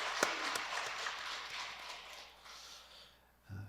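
A church congregation claps in encouragement for a young soldier after a worship song, a faint, thin patter of applause with a few sharper claps early, tapering off before a brief low thump at the end.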